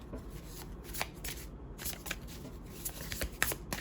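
Tarot cards being shuffled in a steady series of close, crisp riffling flutters and soft slaps, alone with no talk.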